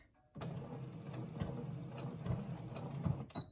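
A sewing machine back stitches a fabric mask, a quiet, steady mechanical whir with faint rhythmic ticking that starts after a brief silence and runs for about three seconds.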